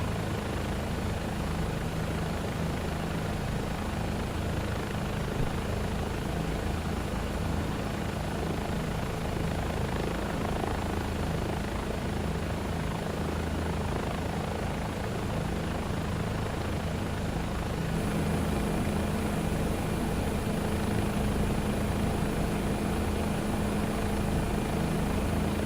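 A Bell 407 helicopter in Microsoft Flight Simulator 2024 with an add-on sound pack, a constant rotor and turbine drone from inside the cabin, dense and steady, rising slightly in loudness partway through, with no talk.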